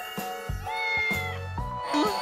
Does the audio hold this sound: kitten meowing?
yes